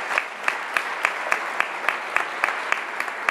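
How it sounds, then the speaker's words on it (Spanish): A concert audience claps together in a fast, steady beat after a band's Lenten concert in Socuéllamos. The claps fill the hall at a constant loudness. "Otro aplauso para ellos."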